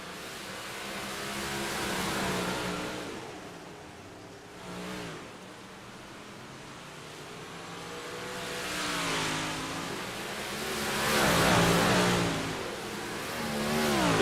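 Big Block Modified race cars lap the Port Royal track, their engines droning steadily and swelling into louder revving surges as cars pass, with no one talking.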